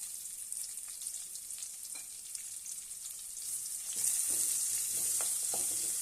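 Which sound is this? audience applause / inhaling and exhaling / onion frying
onion frying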